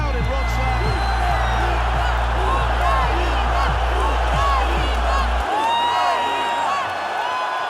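Packed Ukrainian boxing crowd in Wrocław after Oleksandr Usyk's heavyweight title win, a dense continuous roar of cheering and whoops with rising shouts throughout, loud and sustained, with a steady low hum underneath that cuts out near the end.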